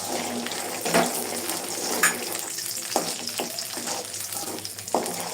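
Panch phoron spices and dry chillies sizzle in hot oil for a pickled garlic dish, a steady close frying hiss broken by a few sharp spatula scrapes and clinks against the pan.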